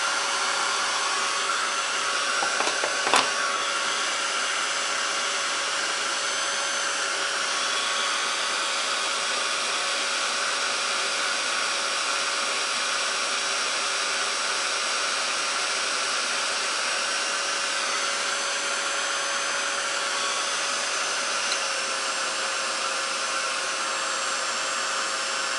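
A dryer blows continuously to dry Tim Holtz Distress Ink on a craft surface, a steady loud whooshing hum with a faint whine, broken by one brief knock early on and otherwise unchanging, without any talk.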